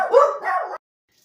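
A pet dog in a busy family home gives a short burst of two close barks, loud and near, then falls silent.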